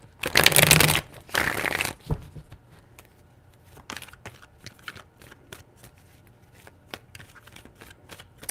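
A few seconds of brisk tarot card shuffling up close, two loud riffling bursts, then softer scattered taps and flicks of cards.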